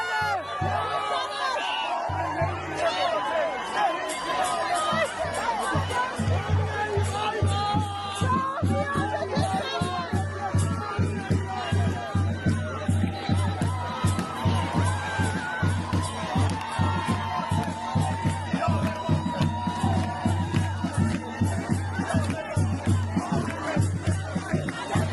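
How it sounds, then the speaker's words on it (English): Crowd in Gothenburg celebrating with flags, dense cheering, shouting and rhythmic clapping that carries on steadily and loudly, with many voices blended together. "Clapping, shouting, dancing."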